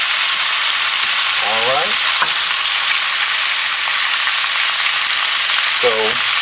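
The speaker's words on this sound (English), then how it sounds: "got about a tablespoon or so of oil in here, and we are going to brown and cook our pork" Pork browning in about a tablespoon of oil in a pan, a loud, dense, steady sizzle throughout, with a brief spoken remark near the start.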